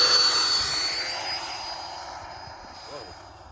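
A model F-22 jet flies past with a fading rushing whoosh and whine that starts loud nearby and tapers off as it moves away, with a brief faint voice near the end.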